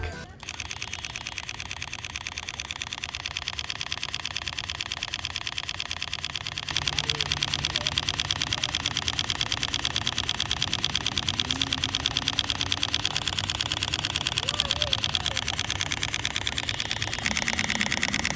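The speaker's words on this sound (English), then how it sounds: "This is what the high-speed continuous shooting sounds like." A Sony a6500 camera fires its shutter in high-speed continuous shooting at 11 frames per second, a steady rapid mechanical clatter running close and continuous throughout with no talking.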